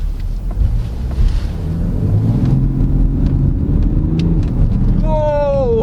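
A 2022 BMW X5 xDrive30d M Sport diesel SUV under full throttle, a steady loud engine drone with rising pitch as it pulls, wind and road roar throughout, and a brief voice exclaiming near the end.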